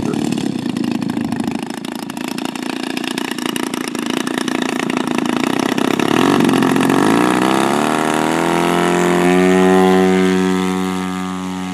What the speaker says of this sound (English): What is the model? It's a P-47 Thunderbolt.